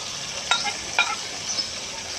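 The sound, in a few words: stirring spices frying with tomatoes in pan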